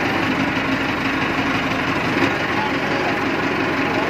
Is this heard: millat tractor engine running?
yes